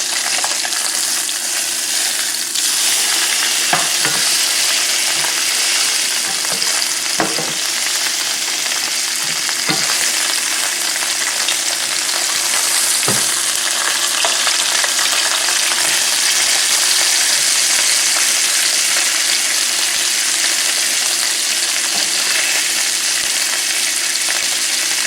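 A whole white bass fries in a pan with a loud, steady sizzle and crackle, continuous throughout with occasional sharp pops and clicks of spattering oil.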